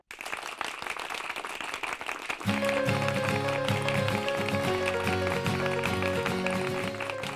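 An audience in a Hindi comedy series breaks into dense, continuous clapping that runs throughout, with a musical backing swelling in beneath it partway through.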